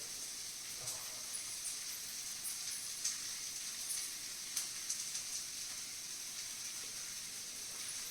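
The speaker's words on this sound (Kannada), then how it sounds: "ಈರುಳ್ಳಿ ಚೆನ್ನಾಗಿ ಫ್ರೈ ಆಗಲಿ" Onions fry in a pan with a constant, faint, hissing sizzle that holds evenly from start to finish, with no talking.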